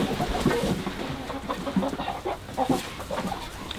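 Chickens cluck in a steady, busy chorus close by, with short low clucks repeating irregularly throughout and no clear speech.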